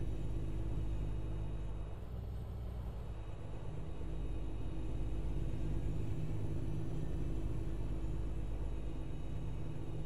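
A heavy truck engine in American Truck Simulator, on a Washington route, rumbles with a deep, steady low drone and a faint whine above it, continuous and unchanging throughout.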